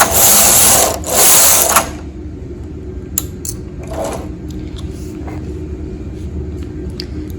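A domestic knitting machine carriage knits two rows of shiny viscose yarn: two close, loud mechanical sweeps one after the other, then a quiet stretch with faint clicks and handling noises.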